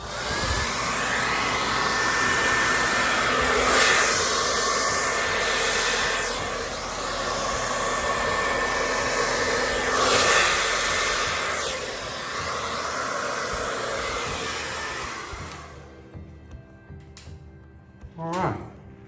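A hair dryer blows onto acrylic pour paint with a loud, steady whooshing hiss that swells and dips for about fifteen seconds, then cuts off, leaving quieter rustling.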